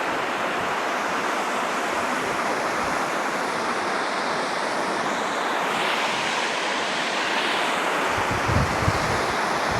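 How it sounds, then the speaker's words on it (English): Water rushes steadily through a canal lock at Hatton Locks on the Grand Union Canal, a continuous broadband roar mixed with gusting wind noise on the microphone. "So the water is flowing through"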